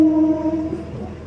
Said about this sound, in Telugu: కనమలోపల్లికి మన ట్రైన్ చేరుకుంది.